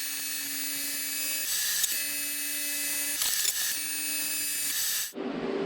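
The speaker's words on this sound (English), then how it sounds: "Now all I have to do is just trim this excess off to match this side." A power tool trims excess metal off a homemade intake manifold for a Honda K24A2 swap. A steady, piercing high whine runs in three long stretches with brief dips between them, then cuts off into a softer hiss near the end.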